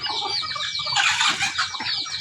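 Several chickens cluck and squawk together up close, a lively overlapping flock chatter that swells in the middle.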